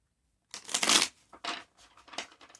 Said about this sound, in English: Let me shuffle you one more time.